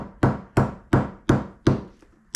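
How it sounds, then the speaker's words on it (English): A hammer strikes a freshly glued shoe sole joint five or six times in a steady rhythm, each blow a sharp, close, solid thunk that quickly dies away. "don't be afraid to hit it with a hammer"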